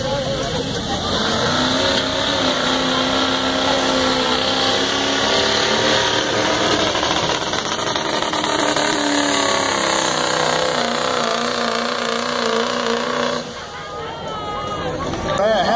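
A Chevrolet truck engine revs loudly at a fair truck pull, a sustained, rising roar heard close, with voices and crowd babble mixed in beneath it.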